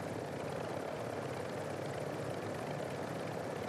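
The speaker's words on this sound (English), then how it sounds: "I'm going to turn the chopper around." Steady, dense helicopter rotor and engine drone from a chopper in the shooter Call of Duty Warzone, loud and constant throughout with no talking.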